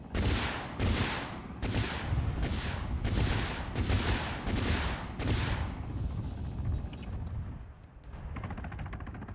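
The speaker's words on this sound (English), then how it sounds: "Big airstrike right there." A rolling airstrike in a war strategy game, about eight heavy booming explosions in a steady rhythm, loud and near, then quieter rumble as the barrage ends.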